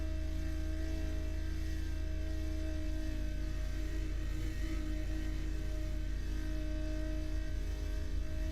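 A V12 aircraft engine in Microsoft Flight Simulator 2020 drones at a steady, constant hum with a continuous low rumble and no speech.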